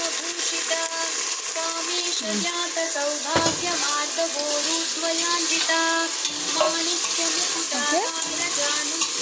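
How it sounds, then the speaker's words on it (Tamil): Ingredients sautéing in a pan for a carrot and soya chunk biryani, with a steady sizzle and scraping stirs throughout, a sharp clank near the middle, and faint background voices. "நல்லா வதக்கி விடு"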